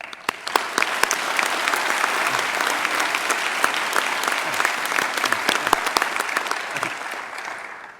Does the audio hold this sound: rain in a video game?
no